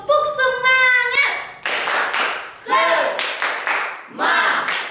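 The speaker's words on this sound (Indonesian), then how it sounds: "mari kita tepuk semangat. Tepuk semangat!" A group joins in a rhythmic 'tepuk semangat' clap chant, bursts of sharp hand claps in a patterned beat mixed with voices chanting and speaking loudly over them.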